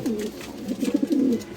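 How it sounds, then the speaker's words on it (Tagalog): Low, rounded cooing from a nearby pigeon, a drawn-out call breaking into several quick pulsing notes, with no other voices. "Napakagandang ibon nito"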